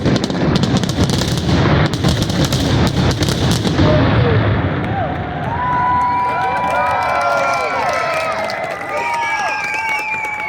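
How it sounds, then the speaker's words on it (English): Azalea Festival fireworks boom and crackle in the distance outdoors near a battleship at night, with dense rapid bursts at first, then fading crackles and whistling trails, over steady background noise. "They have the Azalea Festival fireworks going on."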